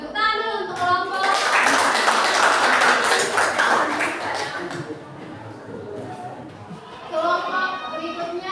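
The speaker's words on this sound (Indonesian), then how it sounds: "Tepuk tangan dulu untuk kelompok." A classroom claps for a student group, a loud burst of hands that gradually fades out, with children's voices and chatter rising before and after it.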